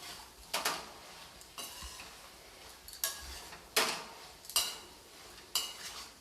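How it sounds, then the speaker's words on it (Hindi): A spoon stirs pointed gourd (parwal) with salt in a pan, six or so sharp metallic scrapes and clinks at steady intervals, fairly close, with a soft sizzle in the quiet between strokes. "अब मैं सब्ज़ी को अच्छी तरीके से नमक के साथ मिला दूँगी।"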